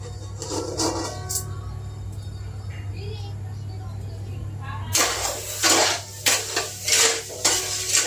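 Sugar mixture stirred in a pan on a gas stove, with a low steady hum at first, then a run of loud scraping and clattering of a utensil against the pan near the end.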